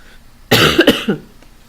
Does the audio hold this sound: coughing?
yes